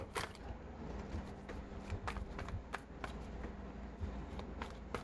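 Tarot cards being shuffled by hand, a steady run of soft riffling and flicking with sharp card snaps scattered through it, close and continuous without any talking.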